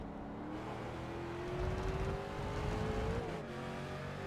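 Race car engine in iRacing at WeatherTech Raceway Laguna Seca, a steady close engine note climbing in pitch, then dropping sharply near the end as the car downshifts into second gear, with no talk.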